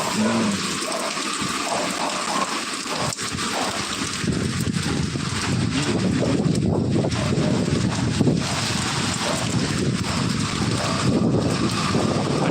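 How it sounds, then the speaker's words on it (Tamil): Strong wind roars and buffets the microphone continuously, a dense rushing noise with low rumbles, loud and unbroken throughout. "காற்று காற்று செம்மையாக காற்று அடிக்குது"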